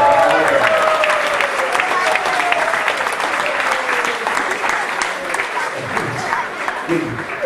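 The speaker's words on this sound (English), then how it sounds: "Give them a round of applause." An audience at a gathering with a spiritual teacher breaks into loud, dense applause that runs steadily for the whole stretch, with a few voices faintly mixed into the clapping.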